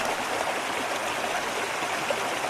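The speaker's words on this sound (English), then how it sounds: "I've got to get rid of this water sound" Steady running water, like a stream or trickling flow, hisses continuously in the background at a moderate level with no pauses and no voices.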